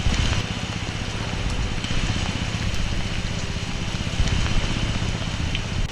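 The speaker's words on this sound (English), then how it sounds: "Such a strong downpour." Heavy tropical downpour on a shark island with mangrove bushes, a loud dense roar of rain hammering close by, unbroken and steady throughout, with no voices.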